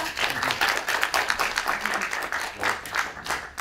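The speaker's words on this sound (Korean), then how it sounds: "박수 부탁드립니다." An audience claps steadily together before a lecture, a dense burst of applause holding throughout.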